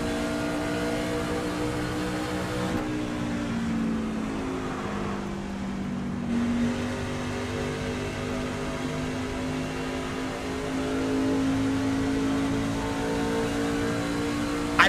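A race car engine in a NASCAR racing video game drones under heavy throttle, its steady harmonic roar shifting slightly in pitch, loud and continuous with no talking.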